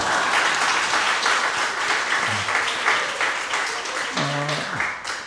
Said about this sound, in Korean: 우리 새색 씨한테 박수 한번 해주세요